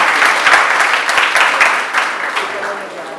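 A crowd at a May Day rally for domestic workers applauds steadily, a dense wash of clapping that holds at a fairly even level and eases slightly toward the end.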